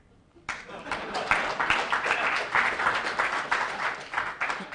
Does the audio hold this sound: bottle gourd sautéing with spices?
no